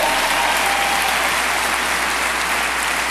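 Audience applause at a 2010 leadership convention, a dense, sustained burst of clapping from a large crowd that fills the room evenly before slowly easing.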